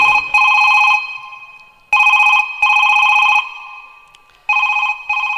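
A telephone rings loudly in three bursts of its bright trilling bell, with short silent gaps between them.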